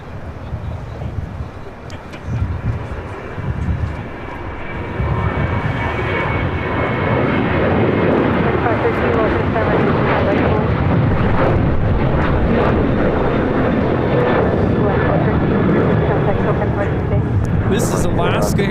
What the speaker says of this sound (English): This is Alaska Airlines 1315 taking off to Portland.